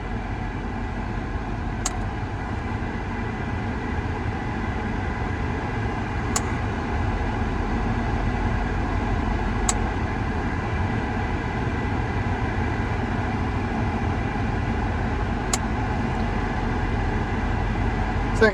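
A 1989 Mercedes W126 560SEL runs steadily with its newly installed Four Seasons AC compressor clutch engaged, giving a continuous even engine drone broken by a few brief faint clicks.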